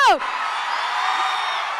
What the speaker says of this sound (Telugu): ఒకే ఒక్క సౌండ్, అది జనాల నుంచి వచ్చిన అరుపులు,